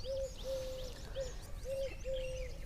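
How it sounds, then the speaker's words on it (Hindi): An Asian koel calls repeatedly, five clear whistled notes in an uneven rhythm, moderately near over steady background noise and faint chirping of other birds. "कोयल की आवाज़"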